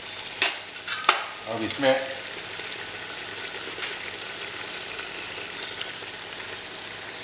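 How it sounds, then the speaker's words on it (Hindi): Onion and mutton frying in a pan for a Maharashtrian Saoji mutton curry, with a few loud stirring scrapes early on, then a steady low sizzle continuing alone; a brief voice at the start. "हमारा प्याज और मीट जो है बढ़िया भुन रहा है।"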